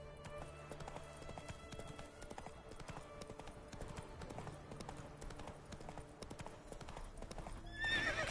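Roach the horse trotting in The Witcher 3, a steady rhythmic clip-clop of hooves close by, with a whinny and brief game dialogue mixed in.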